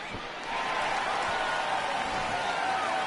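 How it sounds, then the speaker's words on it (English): A home crowd at an Amarillo Sod Poodles versus Springfield Cardinals baseball game roars after a two-run homer, a broad, steady wall of cheering that swells in and holds. "the home crowd is going wild"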